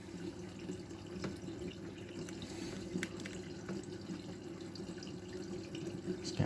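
A Miele W916 washing machine with synthetic rubber hoses fills slowly with water on a 95-degree cottons cycle, a low, steady trickle and rush that holds at a quiet level throughout.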